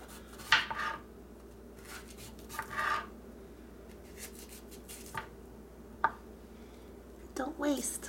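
A knife chops bell peppers and chicken sausage on a board, a few sparse, crisp cuts scattered through a quiet kitchen with faint background hum.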